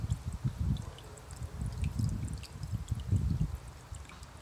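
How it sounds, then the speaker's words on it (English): A small solar-powered water pump keeps a backyard patio mini pond stirred, giving a soft, steady trickle and gentle pouring sound that stays faint and continuous with no talking. "that's what's going to be powering a small water pump that I have inside"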